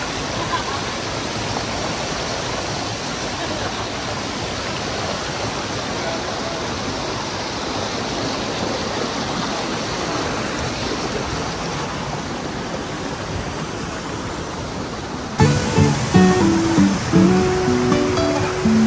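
Strong rushing water roars in a dense, unbroken wash, loud and close, and a voice speaks over it near the end.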